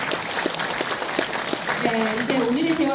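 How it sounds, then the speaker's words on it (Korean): Audience clapping at a book launch event for an education superintendent candidate, scattered claps audible at moderate volume, with a voice coming in over the applause toward the end. "성실하고 또 깊이 있게 답해주신 우리 이남호 전 총장님께 박수 한번 전해주시기 바랍니다."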